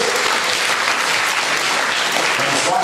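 Audience applause for a contestant at a Who Wants to Be a Millionaire game show event, a dense, loud, sustained clapping from a crowd filling the room without pause.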